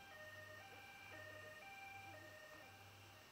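A two-tone emergency siren alternates high and low pitches in a repeating wail in the mobile strategy game Age of Apes, faint and steady with no voices.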